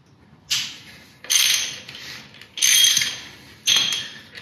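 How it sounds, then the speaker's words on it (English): A ratchet works loose the oil drain bolt on a Kayo KT250 dirt bike in several separate bursts of rapid clicking, each lasting about half a second to a second with short pauses between, close and clear with no talk. "let's loosen it up and get the oil out."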